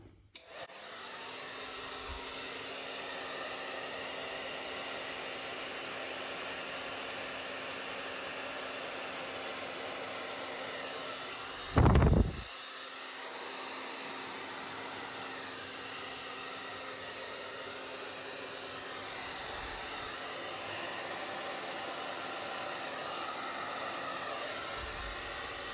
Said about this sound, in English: I probably should not have used the hair dryer